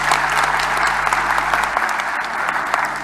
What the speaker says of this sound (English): Give them another round of applause for me